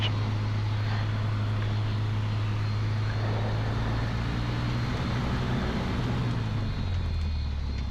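A light training aircraft's engine idles during taxi and a brake check, a loud steady droning hum that holds throughout and drops in pitch near the end.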